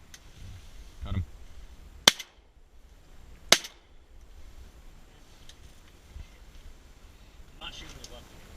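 Two sharp, loud shotgun blasts about a second and a half apart during a duck hunt from a beavertail boat blind, with hunters talking quietly and wind noise around them.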